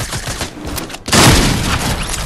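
A new lever-action shotgun in a video game lets off a single loud, close blast that booms and lingers, following a quieter stretch of game noise.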